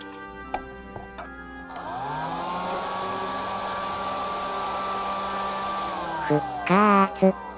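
A cordless vacuum cleaner, repaired with replacement store-bought rechargeable batteries, switches on after a few clicks and runs with a steady high whine and airflow hiss, then changes pitch as it is handled near the end.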